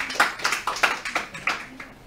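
A church congregation claps for Jesus in a series of sharp, fairly rhythmic claps, about eight strong beats across a couple of seconds, close and clear with little else around them.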